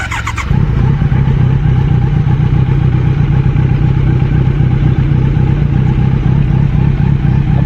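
A Kawasaki Z900 motorcycle with a Mivv Mk3 carbon decat exhaust idles steadily and loudly up close, a deep rumbling throb that kicks in after a brief moment and holds without a break.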